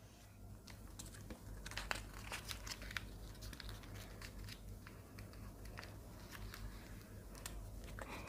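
Paper is folded and creased for an origami tie, making soft, close crinkles and scattered crisp taps at a low level, with no talk.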